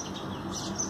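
Sparrows in a rooftop garden give faint, brief chirps over quiet background noise, heard from a short distance.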